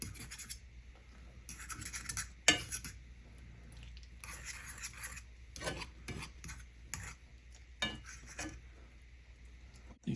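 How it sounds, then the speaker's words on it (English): A utensil scrapes and stirs sauce for pineapple chicken with a fig glaze in a pan, with intermittent scratchy strokes, clinks and pauses, close and fairly quiet. "try to mix this sauce up just a little bit here"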